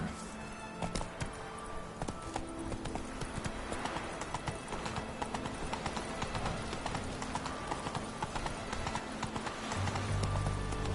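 Roach the horse's hooves clip-clopping at a steady trot across the ground in The Witcher III, a brisk, evenly spaced series of close thuds that continues throughout.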